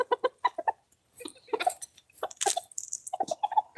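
A flock of backyard hens clucks in scattered bursts with short pauses between them, close and fairly quiet, with one louder squawky call in the middle.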